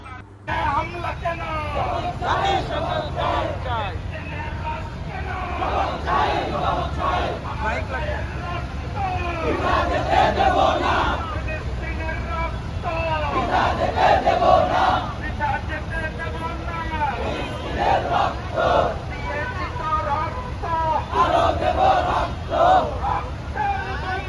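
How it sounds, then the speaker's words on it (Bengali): A street rally crowd in Dhaka chants slogans in unison, with a loud, rhythmic call-and-response of many voices that rises and falls over steady traffic rumble. "এভাবে স্লোগানে স্লোগানে প্রকম্পিত হয়েছিল ঢাকার রাজপথ"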